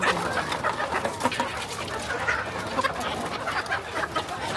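Laying hens cluck busily while being given feed, a dense overlapping chorus of clucks and chatter close by, continuous and loud with no talk.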